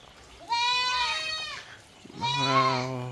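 Goats bleat on a farm in late afternoon: two long, wavering, nasal calls close by, one after another with a short pause between them.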